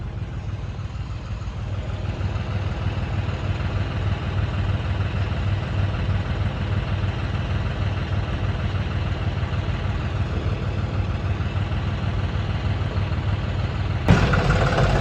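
Tractor engine idling steadily at a weighbridge, a continuous low rumble with constant vibration that stays close and even throughout, with a brief louder shift near the end.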